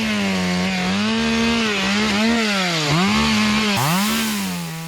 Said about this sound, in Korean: 낙엽송을 베기 위해 주변 잡목을 제거하기 위한 작업이 진행 중인데요.